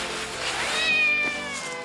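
A cartoon kitten lets out one drawn-out, high, rising-and-falling meow, clear and close, with no voices over it.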